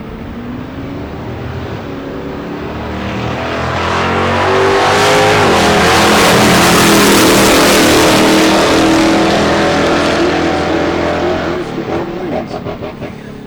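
A drag racing Camaro launches down the strip, its engine swelling from a rumble to a loud, sustained roaring run that peaks mid-clip and fades as the car pulls away, heard alone without talk.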